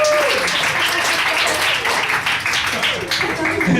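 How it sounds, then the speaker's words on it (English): Audience at a stand-up comedy show breaks into loud, sustained applause, a dense wash of clapping with some cheering voices mixed in. "Give him a round of applause, I like that"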